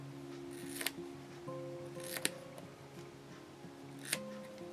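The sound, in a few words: cutting duct tape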